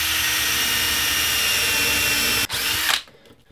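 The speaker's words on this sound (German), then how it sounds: "Ihr setzt den Bohrer möglichst gerade an, wie ihr hier seht, also in einem rechten Winkel und bohrt einfach durch." A loud power drill whines steadily through material for a couple of seconds, briefly dips, then winds down and stops.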